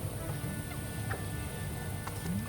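Bird call from the video game Gecko Gods, a few short squawking calls over a steady ambient game soundscape, moderately loud and without speech.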